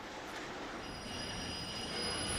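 Train in a Nancy Drew video game speeding up, a steady loud rumble of rolling wheels with high metallic squealing tones running over it throughout.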